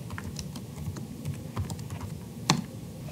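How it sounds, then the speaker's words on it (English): Someone types a command on a computer keyboard, a close run of light, uneven key clicks ending in a firmer keystroke, with no talking. "you can just type simv to run the simulation first"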